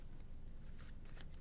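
A deck of tarot cards is shuffled close by, a soft run of riffling card flutters over quiet background noise.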